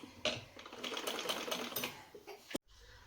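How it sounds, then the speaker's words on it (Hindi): A sewing machine runs steadily, stitching a strong seam along the side of a homemade cloth bag, its fast mechanical whir continuing close up before stopping abruptly near the end. "दूसरी तरफ भी सेम हम सिलाई कर रहे हैं, बिल्कुल पक्की तरह से, ताकि हमारा थैला बिल्कुल ना फटे।"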